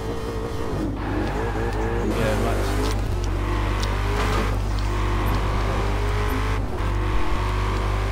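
Ford Shelby GT500 engine in the racing game Forza Horizon 4, a loud continuous motor drone with rising and falling revs and gear changes across the stretch, heard alongside other car sounds.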